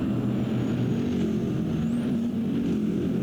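Race cars, including Callaways and a BMW, drone steadily into the famous hairpin at Long Beach, a continuous engine roar at a fairly constant pitch with no speech.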